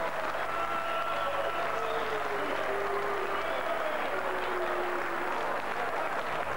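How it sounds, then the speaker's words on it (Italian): An audience at a boxing match applauds both fighters once the bout ends, sustaining a steady, even wash of clapping throughout with no break. "A big round of applause for both boxers."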